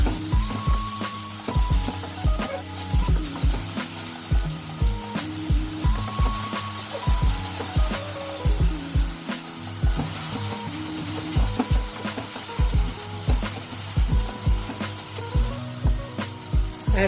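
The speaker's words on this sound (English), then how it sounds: "Once the oil is really hot, add the sliced onions, saute it for a minute on high heat." Sliced onions sauté in really hot oil over high heat for street-style veg Hakka chowmein, giving a steady loud sizzle broken by rhythmic scraping and stirring knocks from a utensil in the pan.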